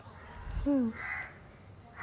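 A single crow caws once or twice at moderate distance, harsh and brief, over a quiet outdoor background.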